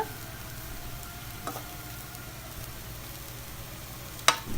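Cauliflower and pea fried rice sizzles steadily in a pan, a low continuous frying hiss with a soft scrape or two and a sharper clink near the end, faint and fairly close.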